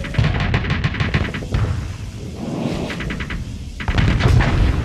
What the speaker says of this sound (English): Launch off a pair of missiles.